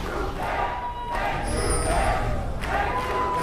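Crowd at an esports match of CW versus H2K cheers and roars continuously across a large venue, with loud swelling waves and a commentator talking over it.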